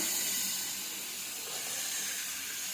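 Mutton, about 1.5 kg, sizzles as it goes into a pan of well-fried spice paste for mutton kosha, a steady hiss spreading across the whole stretch with no voices over it.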